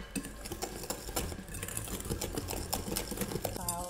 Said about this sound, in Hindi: 1 टीस्पून सिनेमन पाउडर, इसको अच्छे से मिक्स कर दीजिए।